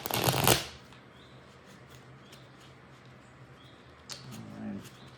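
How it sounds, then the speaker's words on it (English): Tarot cards being shuffled by hand, a loud close riffle at the start, then a quiet pause before a softer second burst of card shuffling near the end. "One more shake and a shuffle"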